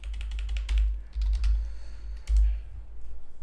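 Rapid close-up typing on a computer keyboard, entering a software name into a search, comes as quick bursts of clicky keystrokes with short pauses between words, fairly loud and without any voice.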